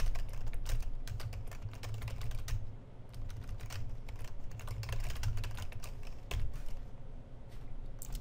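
A computer keyboard clacks continuously as C++ code is typed, with quick irregular keystrokes and only a brief pause partway through, close and clear, with no voice.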